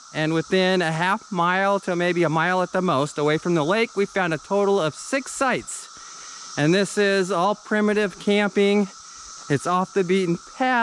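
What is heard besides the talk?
cicadas buzzing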